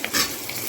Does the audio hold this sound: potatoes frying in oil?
yes